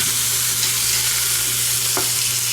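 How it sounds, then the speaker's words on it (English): Oxtails searing in an Instant Pot on the sauté setting, a loud, steady close sizzle and hiss with a faint scrape of stirring. "Let's just saute these for a few minutes on each side and so we can get some good flavor on them"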